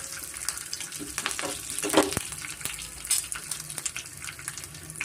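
Chana dal and urad dal sizzling in hot tempering oil with curry leaves, a steady close crackle and spatter with a stirring scrape, for a village-style ridge gourd dish.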